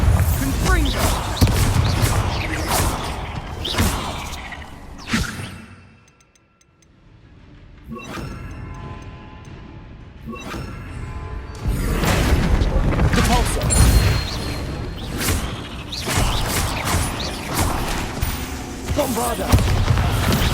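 Fire-blasting Confringo spell cast repeatedly during combat inside an insect-infested tomb in Hogwarts Legacy, loud booming bursts in dense clusters with a brief quieter lull midway, under game music and voices.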